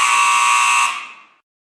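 A quiz game show buzzer gives one loud, harsh electronic tone that holds steady for almost a second, then fades out quickly into silence.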